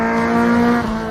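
A car engine accelerates hard on a race track, a loud, sustained buzzing drone heard close up that stays steady before easing slightly near the end.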